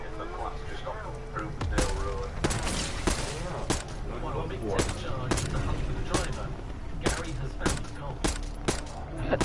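Sharp, close SMG gunshots in Call of Duty while shooting targets, scattered single shots and short bursts spread across the clip, with a speaking voice in between.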